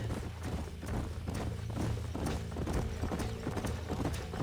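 Horse hooves clip-clop in a steady, brisk walking rhythm in the video game Red Dead Redemption 2, close and continuous over a low, even bed of background sound, with no talking.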